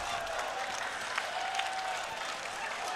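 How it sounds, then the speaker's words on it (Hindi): An audience at a Hindi comedy and satire poetry show claps in a continuous, even patter of moderate loudness, heard without any speech over it. "इस पे वो ताली बजा रहे जो खुद को ढंग के समझ रहे हैं।"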